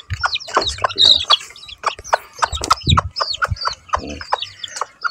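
Chickens, a mother hen with her young, kept in an enclosure cluck repeatedly in quick, irregular bursts with higher chirps mixed in, close and loud, and no talk over them.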